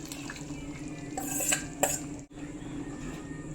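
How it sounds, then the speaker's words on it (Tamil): A sautéed mixture goes into a pan of gravy and is stirred, with a spoon scraping and clinking against the cookware over a soft wet simmer, close and fairly steady, one brief gap midway, and no voices. "இப்போ நம்ம வதக்கி வச்சிருக்கிறத அதில் சேர்த்துக்கணுங்க."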